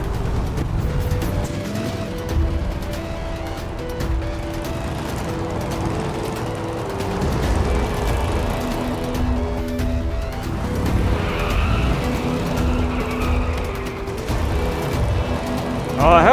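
Engine noise from a car driven in the video game GTA runs steadily throughout, with tire and road sounds mixed in and game music or voices layered over it.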